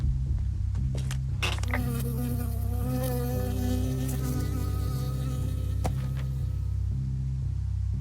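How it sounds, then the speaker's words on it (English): Insect buzzing of a bee in the video game Firewatch, a loud, steady droning whine lasting throughout over a continuous low rhythmic background hum, with a few brief clicks. "I got stung by a bee."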